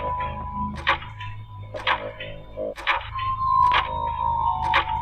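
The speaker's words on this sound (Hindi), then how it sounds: "पूरे घर के सन्नाटे को सिर्फ एक ही चीज तोड़ रही थी, और वो थी घड़ी की आवाज" Sharp ticking clicks repeat about once per second over a low steady hum, fairly close and clear.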